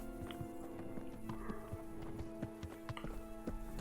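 A horse in the medieval video game Kingdom Come: Deliverance: hooves clip-clop in an irregular pattern at close range, with a brief neigh and some steady tonal background hum underneath; no one speaks.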